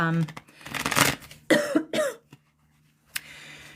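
A person coughs a few times close to the microphone, with short throat-clearing bursts and brief pauses between them.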